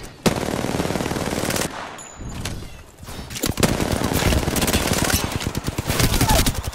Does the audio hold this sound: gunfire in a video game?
yes